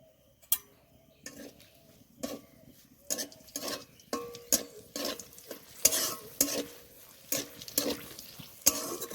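Dried red chillies frying in a pan, with a quiet sizzle broken by about a dozen sharp, irregular spatula scrapes and taps against the metal, close and without talking.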